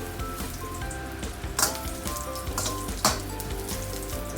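Slices of ginger sizzle steadily in hot oil in a pan, a continuous crackling fry with a couple of brighter spits.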